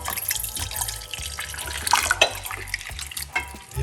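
One cup of hot water poured in a home kitchen for a recipe, a steady splashing, trickling stream with small drips and clinks, close and fairly loud, with no talking.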